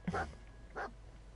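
A dog in the Fallout 4 video game whimpers twice, two short whiny yelps close up, the second slightly softer, over quiet game background hum.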